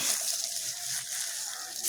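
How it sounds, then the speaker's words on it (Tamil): Water poured onto the ground around the base of a coconut tree over packed neem leaves, a steady close splashing gush that runs without a break, with no voices. "இப்படி தண்ணி விட்டாக்க நல்லா உரம்"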